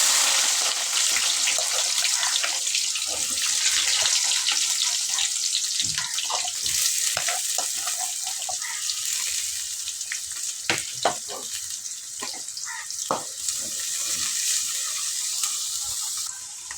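Two finely chopped large onions sizzle in a hot pan for a Tamil taro-root curry, a loud, dense, steady hiss with scattered clicks and scrapes of stirring.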